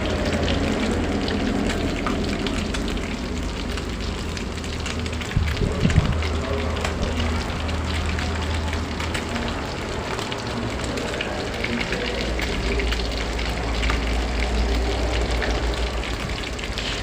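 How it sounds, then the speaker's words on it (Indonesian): Stingray pieces frying in a pan of hot oil in a home kitchen, a steady dense sizzle and crackle running throughout, with a brief louder bump midway. "Ini aja sebenarnya lagi goreng ikan ini"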